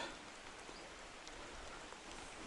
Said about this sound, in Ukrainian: незапланований дощик